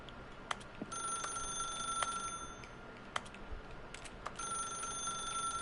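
A telephone rings in The Stanley Parable video game, sounding as repeated bright electronic rings that pause and resume over a quiet background, with no talking.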